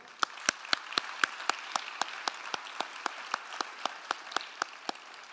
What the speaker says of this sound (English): Please give a round of applause for Dean Bob Orr.